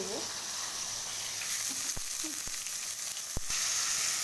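Drumsticks and potatoes frying with salt and turmeric in a pan for a Bengali shukto, a steady close sizzle broken by a few sharp scrapes of a spatula as the pieces are stirred.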